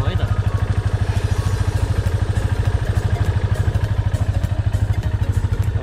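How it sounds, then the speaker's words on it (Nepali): A secondhand motorcycle engine idles close and loud with an even, fast thumping pulse and a light clatter, unchanged for the whole stretch. "अब आयो इन्जिनको साउन्ड होइन"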